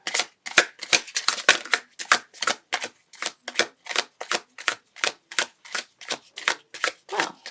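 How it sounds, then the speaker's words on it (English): A glossy, full-bleed tarot deck, slightly too large for comfortable handling, is shuffled in a steady run of crisp, close, evenly spaced riffs and slaps that continue throughout without talk. "they're just a smidge too big for me to shuffle with"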